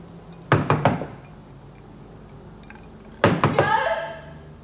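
Knuckles rap on a door in a prison drama: a quick run of about three firm knocks, a pause, then a longer burst of about five louder knocks, close and distinct.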